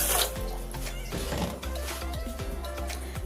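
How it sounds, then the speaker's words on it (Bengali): Water poured from a bowl into a wide basin of sugar while making a carrot sweet syrup, a steady close splashing stream through the opening second, then mixing and clinking handling noises continuing. "ওই বাটির মাপ করে কিন্তু আমি 2 বাটি জল দিলাম।"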